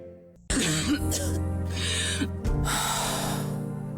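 In a TV advertisement, a person coughs hard twice, with a harsh rasping breath between the bursts, close and loud over a steady background tone.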